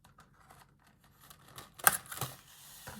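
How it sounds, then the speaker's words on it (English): Plastic packaging around a set of watercolor brush markers is cut open with a few sharp snips and crinkles close up, after a quiet, faintly rustling start. "I have to cut both sides."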